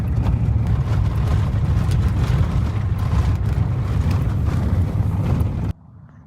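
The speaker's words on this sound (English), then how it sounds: "Wow, that truck is barreling down." A truck barrels down a dirt road in the mountains as a loud sustained rumbling roar mixed with wind buffeting, holding steady for several seconds before cutting off abruptly to near quiet.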